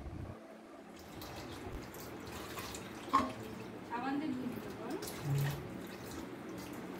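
Food for an egg sandwich is rinsed lightly under running water, with soft splashes and trickles near a sink and a few louder gushes, while a person talks over it.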